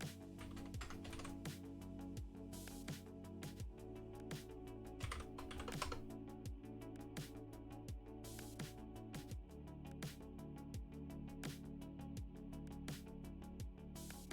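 Steady typing on a computer keyboard during a quiet coding session, a continuous patter of soft key clicks at an uneven pace, close and faint, with a low room hum underneath.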